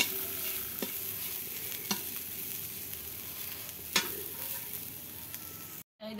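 Fig fry is stirred in a pan over continuous close sizzling, with a few distinct spatula scrapes cutting through at irregular moments and no talk.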